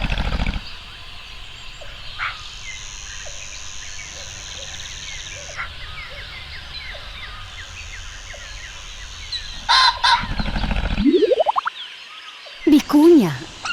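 Colourful ground birds call with gobbling, clucking notes over a soft ambient bed, with scattered boing-like chirps and a rising whistle near the end.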